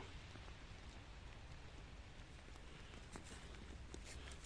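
Steady rain falling and pattering on a surface, a dense even hiss with occasional louder drops, no voices.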